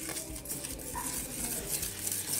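Wheat flour batter with cardamom and soda being stirred for garige, a sweet fried snack, giving a steady, close wet scraping and tapping of a spoon against the bowl that continues for the whole stretch with no voices.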